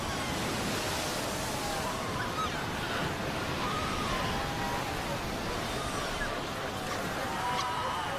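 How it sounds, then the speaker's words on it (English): Ocean waves washing over a shore where seal pups struggle against the incoming tide, a continuous loud roar of surf and spray with no clear breaks between waves. "The pups fight desperately against the onslaught of the waves."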